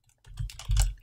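Typing on a computer keyboard while writing C code, two short bursts of rapid key clicks separated by a brief pause, close and clear with no talking.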